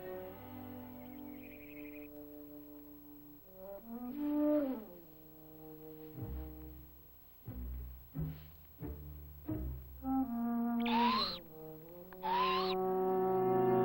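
An owl in an animated wilderness scene hoots repeatedly in clear, wavering, pitched calls, some sliding upward, with short gaps between them; no speech is heard.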